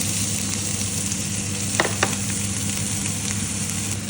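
Chicken giniling frying in hot cooking oil in a pan, a steady close sizzle with a couple of brief clinks of a utensil partway through.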